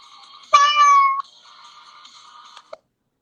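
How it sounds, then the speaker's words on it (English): A cat gives one clear, drawn-out meow, loud and close, with faint tonal background sounds continuing after it. "Oh, a cat."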